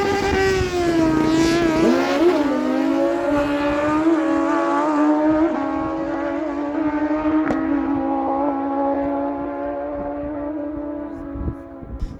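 A 1999 Kawasaki ZX-9R drag bike and a Suzuki race down the strip at a dragway, their engines screaming loud and steady at high revs as the pitch slowly drops while they pull away.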